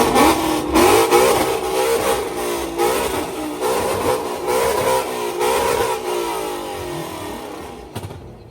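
A Ford Mustang engine revs hard in repeated rising and falling pulls, loud and close, a deep mid-pitched roar that eases off briefly near the end.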